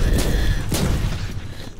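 Heavy gunfire bursts and booming impacts from a through shot attack in Warhammer 40,000: Inquisitor - Martyr, loud and dense, with a sharp blast near the start and another just before the midpoint over a continuous rumbling battle din.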